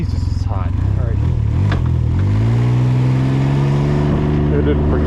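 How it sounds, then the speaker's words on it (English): A 2021 Can-Am Ryker 900 Sport three-wheeler engine revs up close, its pitch climbing and holding high, with a voice talking over it. "this is the 2021 Can-Am Ryker 900 Sport"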